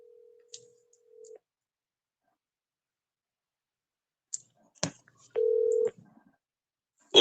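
A telephone call to Jacksonville is placed: a steady tone, a few sharp clicks, then a short, loud tone burst amid otherwise silent pauses, ending with a sudden click.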